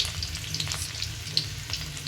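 Garlic frying in oil close by, a steady sizzling and crackling, a continuous bright frying hiss with small pops and no talking.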